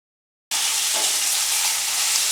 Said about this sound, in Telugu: చికెన్ చాలా బాగా ఫ్రై అయింది